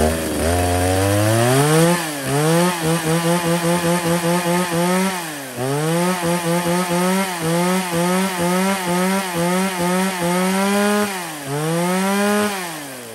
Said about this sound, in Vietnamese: D7 là một con máy cưa Shindaiwa